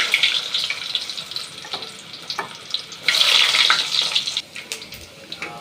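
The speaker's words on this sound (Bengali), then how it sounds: "তেল আমার গরম হয়েছে এখন আমি এতে রসুন দিয়ে দিয়ে দেবো" Garlic hitting hot oil in a home kitchen pan gives a steady crackling sizzle that swells louder partway through and stays close, with no talking.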